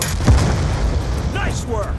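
Tanks blow up in Call of Duty Black Ops 2 on an Afghanistan base-camp battlefield: loud, close booms and rumbling blasts over continuous battle noise, with voice-like sounds mixed in.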